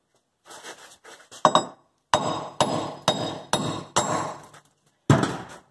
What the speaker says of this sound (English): Hammer our stud out.